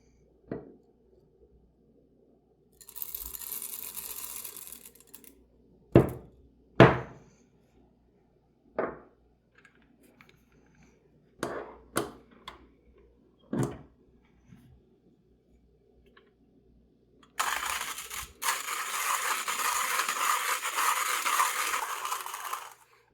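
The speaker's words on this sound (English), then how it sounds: "move on to grinding the coffee beans" Fresh coffee beans being ground in a small grinder, two sustained whirring bursts of grinding separated by several sharp knocks and taps, all close by and with no voices.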